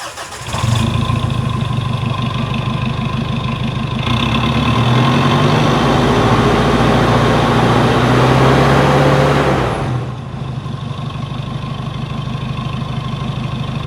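A Pontiac 4x4 truck engine runs loud and close, with a steady idle rumble that swells to a fuller roar for several seconds before settling back into a quieter idle.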